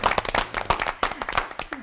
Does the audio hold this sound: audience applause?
yes